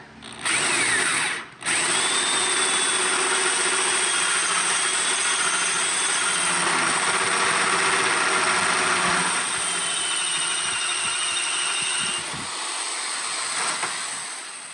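Strong Hand Tools BuildPro tubing notcher cutting a notch in metal tubing, driven by a drill that whines loudly and steadily for over ten seconds after a brief stop near the start, then winds down.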